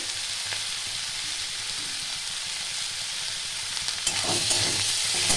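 Ginger garlic paste sizzles and fries in a pan for butter chicken, a steady close hiss with light stirring scrapes that grow a little louder near the end; no talking.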